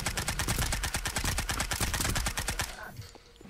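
Rapid, sustained automatic gunfire from the shooter game Kiraverse rattles out in a dense, loud rhythm of evenly spaced shots for about three seconds, then cuts off into a quieter tail.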